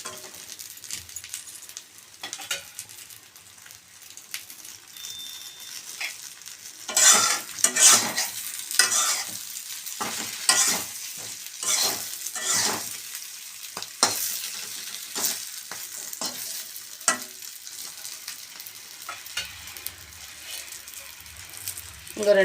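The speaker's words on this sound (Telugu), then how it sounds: "సన్నమంట మీద వేయించుకోండి ఫ్రెండ్స్." Something fries in a pan over a low flame while being stirred, making continuous sizzling broken by repeated scraping and clattering strokes of the spoon against the pan, close and fairly loud.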